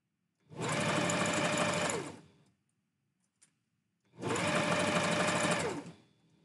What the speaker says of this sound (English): I think I'm louder than the sewing machine.